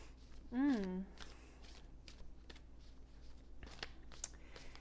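Soft riffling and shuffling of Rose Oracle cards nearby, faint and continuous, with a brief vocal sound and a calm voice speaking over it.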